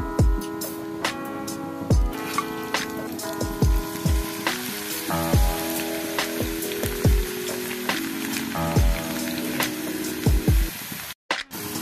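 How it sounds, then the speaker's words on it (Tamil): Steady crackling sizzle of moong dal lentils deep frying in hot oil, with repeated sharp clinks of a metal spoon against the pan throughout. "நம்ம எடுத்து வச்சிருந்த பருப்பெல்லாம் நல்லா ஃப்ரை பண்ணியாச்சு"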